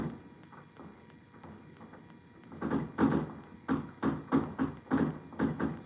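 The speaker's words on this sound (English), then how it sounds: "So you can hear the fireworks." Distant New Year fireworks heard through a window in London, a run of muffled thuds and pops, sparse at first, then coming in a quick irregular volley of bursts.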